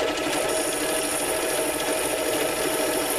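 A 7x10 mini-lathe takes a slow cut with a carbide tipped bit, producing a steady, fairly quiet motor whine with a faint scraping hiss of the cut, continuous and without talk.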